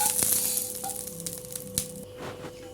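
A parotta fries in oil on a pan, a close sizzle that is loud at first and then settles, with a few small clinks from a utensil and no one talking.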